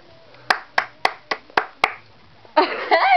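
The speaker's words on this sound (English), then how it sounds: "Applause, applause, applause." Six sharp, separate hand claps at a steady pace, close and loud in a quiet room, followed by a burst of voices.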